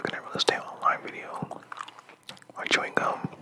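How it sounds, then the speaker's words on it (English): Close-miked gum chewing in an ASMR setting gives wet, irregular smacks and clicks, with soft whispered speech running between the chews. "My chewing gum."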